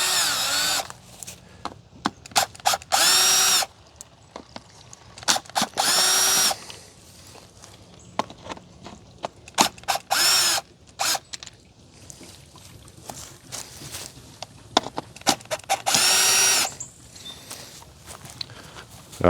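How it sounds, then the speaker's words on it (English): A power drill or driver removing screws from the top of a Pentair pool sand filter, in several loud whirring bursts of a second or so each, separated by quieter handling noises and small clicks. "We're just going to remove these screws on top."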